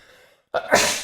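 One loud, close sneeze bursts out after a moment of silence, starting with a quick intake and ending in a forceful, breathy release.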